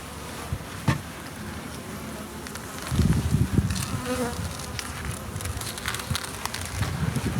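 Honey bees swarm and buzz around an open hive as honey-filled frames are lifted out, a dense, steady drone that grows louder and closer from midway through, with no talking.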